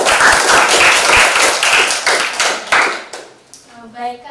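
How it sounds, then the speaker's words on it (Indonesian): A group at a church youth talk session clapping hands together, a loud burst of rhythmic claps that tapers off, followed by a voice beginning to speak. "Oke, tepuk tangan dong."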